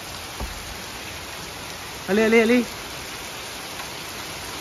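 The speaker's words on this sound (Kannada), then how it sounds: "ಒಳ್ಳೆ ಮಳೆ, ಆಳಿಕಲ್ಲು ಮಳೆ ನೋಡಿ." A summer hailstorm pours down in Coorg, hail and rain making a steady even hiss throughout, with a voice calling out briefly near the middle over the downpour.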